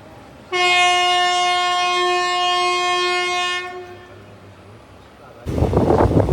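Passenger train pulling out of platform 1 on a route through the Nallamala forest toward Ballari, sounding one loud, sustained horn blast of about three seconds that fades, then a brief quieter gap and a burst of rumbling noise.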